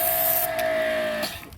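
A Husqvarna electric pressure washer draws car detergent foam through its clear hose, giving a steady close motor whine over hissing spray that stops abruptly near the end.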